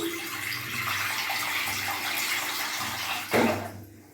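Water runs steadily into a pot for boiling in a home kitchen, a continuous splashing rush that ends with a brief louder gush near the end before cutting off, close and alone.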